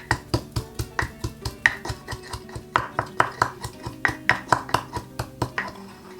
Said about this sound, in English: we're gonna mince the garlic